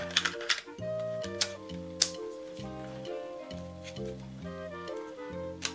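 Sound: repaired Sony WM-EX651 cassette Walkman running a tape

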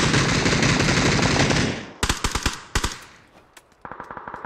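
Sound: automatic rifle gunfire in the video game PUBG (Battlegrounds)

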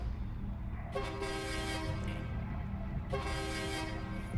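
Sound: train air horn in video game Voidtrain

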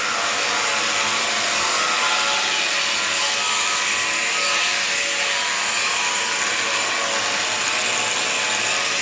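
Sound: cutting a heavy vehicle chassis

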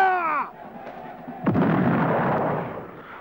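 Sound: musket and cannon volley at a battle reenactment

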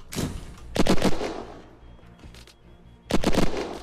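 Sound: flashbang grenade exploding in a video game

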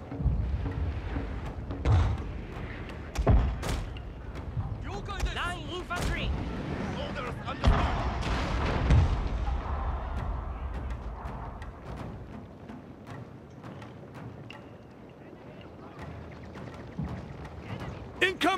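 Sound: artillery fire in the video game Shogun 2: Fall of the Samurai

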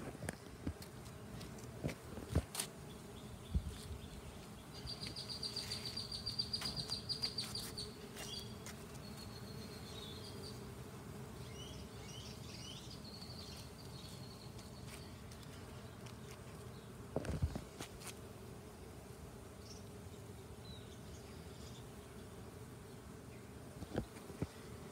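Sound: ground nesting bees buzzing

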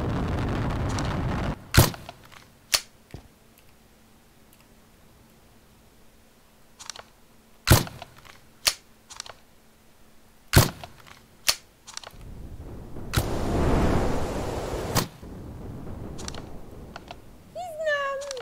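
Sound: sniper rifle shots in the video game Brick Rigs

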